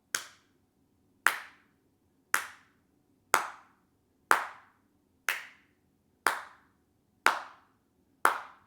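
Nine sharp, small hand claps land at a steady pace of roughly one per second, each crisp and consistent in strength, with nothing else heard between them.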